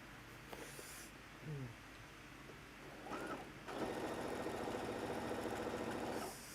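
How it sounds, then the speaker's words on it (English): A sewing machine sews from the seam allowance on fabric for a teacher bag, quiet handling at first, then a steady whirring run of stitching that continues to the end. "I'm gonna sew from that seam allowance"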